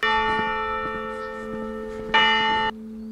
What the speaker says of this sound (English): We've been hearing that church bell every day from about 8 a.m. till about 7-8 p.m. every single day, right on the hour.